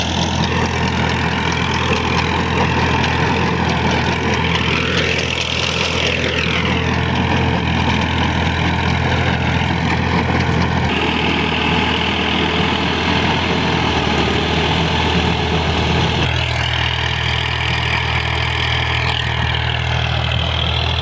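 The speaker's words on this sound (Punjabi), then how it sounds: "ਚੌਥੇ ਲੋਹ ਦੀ ਵੀ ਇੱਕ ਫੇਰਾ ਦਿਖਾਉਂਦੇ ਆ ਜੀ ਤੁਹਾਨੂੰ ਕਿਹੋ ਜਿਹੀ ਕਤਰਾਈ ਆ ਚੌਥੇ ਲੋਹ ਦੇ ਵਿੱਚ, ਔਰ ਟਰੈਕਟਰ ਦਾ ਤੋਰਾ ਕਿੰਨਾ ਵਾ" A tractor engine drives a 48-blade Okara-made rotavator in fourth gear, a loud, steady diesel drone with a shifting pitch as the load changes, continuous and close, with no talk over it.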